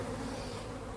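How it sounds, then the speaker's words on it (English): Honey bees hum at a black-painted hive that holds a queen excluder, a dense, even buzz of many insects close by, steady and unbroken, with no talking. "Man, super chilled out bees."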